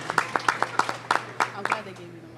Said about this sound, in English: Clap it up for Teddy.